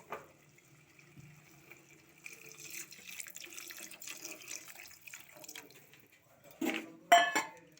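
Water running from a kitchen tap into a pan of egg curry with tamarind, a brief hiss and splash near the end after quiet clatter and handling sounds.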